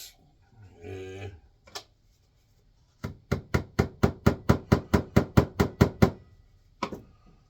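A rapid run of about a dozen sharp, evenly spaced taps on pallet slat wood for a birdhouse rings out close by, preceded by a brief low animal-like call and followed by one last knock.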